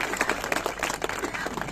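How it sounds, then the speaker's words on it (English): A round of applause from an audience at a heritage music ceremony, with many hands clapping in quick, irregular bursts. The clapping is fairly close and lively, short and sustained throughout, and no speech is heard over it. "You deserve a round of applause from the committee."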